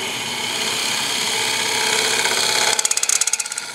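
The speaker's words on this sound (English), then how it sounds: "I'm doing a little scraping." Wood being scraped on a lathe while turning a four-sided jar, a steady whirring hum with a grinding edge, then a rapid rhythmic ticking as the tool meets the corners.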